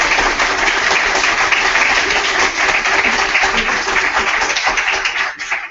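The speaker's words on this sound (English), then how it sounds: "a very warm welcoming applause" A conference audience welcomes a panel of the W3C Technical Architecture Group with loud, continuous applause of many hands, dense and steady before dropping off abruptly at the end.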